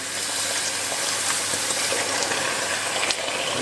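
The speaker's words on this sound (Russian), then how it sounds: "Вливаем полстакана воды. Будет шипеть." Half a glass of water poured into hot caramel made from sugar makes a loud, continuous hissing sizzle that stays steady throughout, with no talk.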